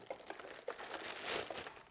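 Packaging crinkles and rustles softly up close while a Corsair Strafe RGB Cherry MX Red keyboard is unpacked from its box, in small irregular crackles with no talk.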